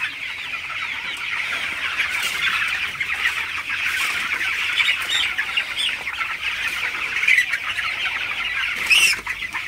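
A flock of 19-day-old broiler chickens spread across a poultry farm clucks continuously, with a dense, close chorus of soft calls and occasional brief wing flutters.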